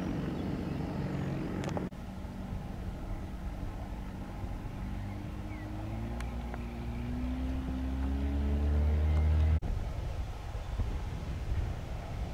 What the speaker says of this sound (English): the Vulcan bomber at Wellesbourne airfield.